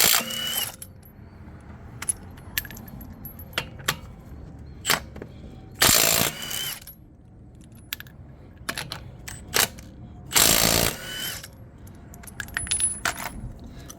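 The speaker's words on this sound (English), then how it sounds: "I'm using my impact gun right here, my Milwaukee" A Milwaukee impact gun with a 21mm socket works on the wheel nuts of a 2010-2015 Toyota Prius, giving two loud rattling bursts amid clinks and metallic handling clatter close by.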